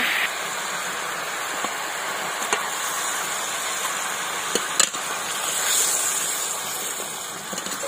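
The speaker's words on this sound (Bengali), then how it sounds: "ঝোলটা এবার ফুটে উঠেছে, এবার এর মধ্যে মাছগুলো দিয়ে দেব" Fish masala curry gravy bubbling in a pan, a steady broad simmering hiss with a few small pops and crackles, heard alone throughout.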